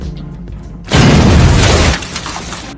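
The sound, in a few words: explosion of a toilet, movie sound effect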